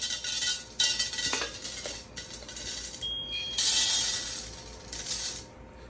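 Freshly roasted coffee beans pour out of a hot ceramic hand roaster in a bright, clattering rush. Bursts of rattling and clinking come and go in uneven waves, with no voice over them.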